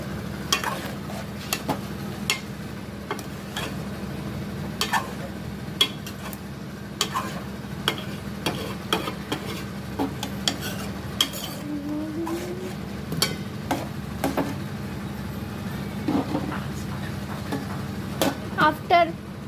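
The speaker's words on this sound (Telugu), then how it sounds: "తర్వాత కలుపుకోవాలి మళ్ళీ" A spoon stirring turmeric-spiced non-veg curry in a pan produces soft scraping and light sizzling, with intermittent clicks of utensil on metal over a steady low cooking hum and occasional voices in the background.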